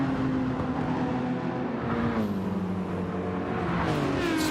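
A GT3 race car in a racing video game drives over astroturf, its engine a steady loud drone whose pitch dips and then climbs again as it revs, with no voices.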